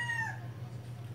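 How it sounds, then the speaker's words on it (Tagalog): A rooster gives a short, fading crowing call at the start, fairly close, over a steady low background hum that continues after the call trails off. "ay, nakikisabay yung mga manok, diba?"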